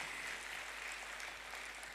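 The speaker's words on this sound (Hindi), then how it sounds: "जोरदार ताली होना चाहिए" Audience applause for a woman's husband at a business talk in Patna, a steady wash of many hands clapping, fairly faint and continuous throughout with no voices.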